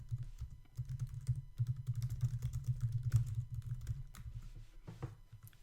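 Rapid, steady keystrokes patter on a computer keyboard while code is entered, a close, continuous clatter with no talking.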